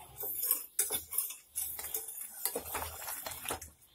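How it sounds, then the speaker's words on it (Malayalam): Sugar and water are stirred gently in a pan over low flame, making soft intermittent clinks and scrapes of a utensil against metal, close and quiet, with no talking. "എന്നിട്ട് വെള്ളം ചേർത്ത് കൊടുക്കാം ഇതൊന്ന് മെല്ലെ ഇളക്കി യോജിപ്പിക്കുക"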